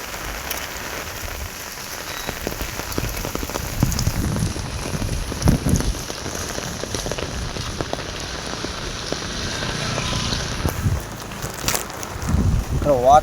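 Heavy rain pours onto a city street with traffic, a dense steady hiss and patter throughout, with occasional louder splashes and faint vehicle noise mixed in.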